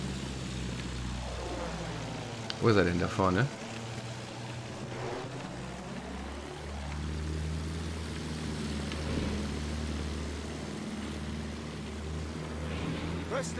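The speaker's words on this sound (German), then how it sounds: "Folge dem verbündeten Flugzeug." An allied propeller airplane in the Battlefield 1 video game drones steadily, with a rising and falling pass overhead early on and a constant engine hum afterward. Someone speaks briefly over it.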